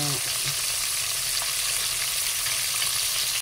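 Tilapia frying in hot oil on a stove, a steady loud sizzle with occasional pops of splattering oil.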